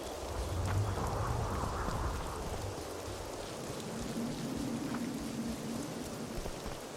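Rain and rumbling thunder in the video game The Witcher 2, a steady hiss of heavy downpour with low rolling rumbles throughout, moderately quiet and with no talk.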